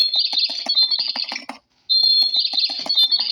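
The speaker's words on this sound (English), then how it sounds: "my niece Destiny, she has a few birds. I mean, they're not that loud" Pet birds chirp and trill in quick, shrill bursts close to the microphone, a near-continuous run of high tweets with one brief pause.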